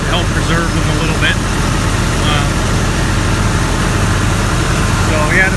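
A tractor's diesel engine idles steadily in cold weather with a low, rumbling drone throughout, with faint voices and scattered noises on top.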